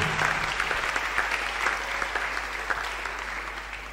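A church congregation at a Sunday service breaks into sustained applause, steady and fairly close, with a faint voice underneath.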